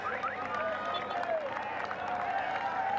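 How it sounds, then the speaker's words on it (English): A home crowd cheers and applauds along the roadside at a road cycling race, the European Championship, a steady sustained swell of distant voices and clapping with whistle-like tones throughout. "Gauthier has all the cheers of the home crowd as they start to crest the rise at the end of this lap"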